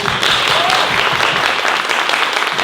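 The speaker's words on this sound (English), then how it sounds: "Can we give a huge round of applause for Duke?" Loud, dense audience applause at a live event in Edison Square, a continuous wash of many hands clapping close by for the full stretch.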